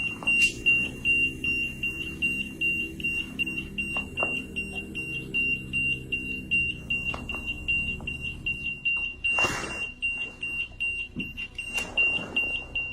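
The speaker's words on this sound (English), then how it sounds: "they get another active reading on their EMF meter" An EMF meter sounds a steady, continuous high-pitched alarm tone during an active reading in a dormitory, holding for the whole stretch over faint footsteps and soft rustling nearby.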